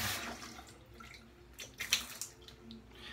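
A badger shaving brush knot is rewetted under running water, a soft trickling splash from a tap with a few brief louder dribbles, close and quiet, without speech.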